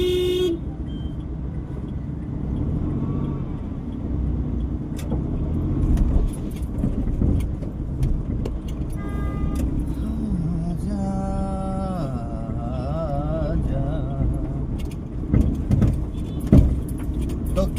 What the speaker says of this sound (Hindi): ये रहा स्ट्रीट, फुल ऑन ट्रैफिक